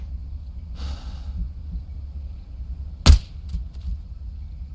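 A single sharp gunshot rings out in the video game Into the Radius 2, landing a headshot; one loud, abrupt crack stands alone over a low ambient rumble, with faint breathy noise before it.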